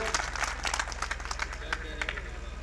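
A crowd at a mushaira and kavi sammelan, a poetry gathering, claps in scattered, uneven bursts at moderate volume, with a steady low hum underneath.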